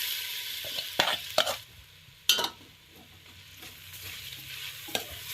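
Shredded sweet potato frying in ghee, stirred in the pan with a soft ongoing sizzle and several sharp scraping clatters of the spoon, close and fairly quiet.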